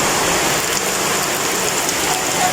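Heavy rain pouring down in a rural province during a flood-bringing storm, a dense, loud, unbroken hiss with steady roar and no pauses, close by and without voices.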